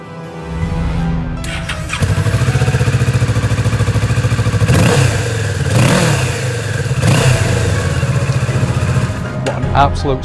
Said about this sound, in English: that stunning Akrapovic exhaust that you've already heard